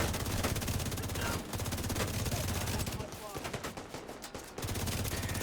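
Sniper turrets firing in a video game, a dense, continuous rattle of rapid gunfire like a machine gun, loud and steady, thinning briefly in the middle before resuming at full force.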